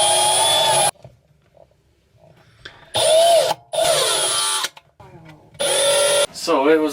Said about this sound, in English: essentially just drill in the holes they tell you